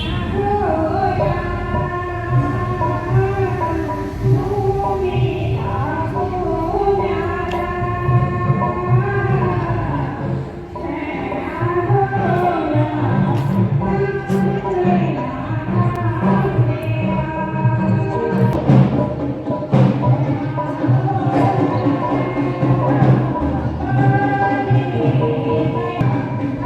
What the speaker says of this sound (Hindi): बान स्नान के मांगल गीत है